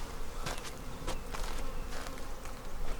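Honeybees from a queenright hive with a virgin queen buzz steadily and densely close by, a continuous droning swarm with louder passes of individual bees flying near, and no talk over it.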